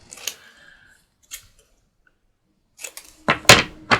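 Scissors trimming a folded paper tea bag fold card, a few sharp crisp snips close up, scattered at the start and then a quick cluster of louder cuts near the end, with no talking.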